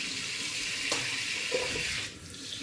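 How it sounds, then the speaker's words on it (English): Tap water runs steadily into a glass demijohn as it is rinsed of sticky residue, a close, continuous splashing hiss with a brief knock partway through and a slight drop in flow near the end. "Now I need to give my demijohn a little shower"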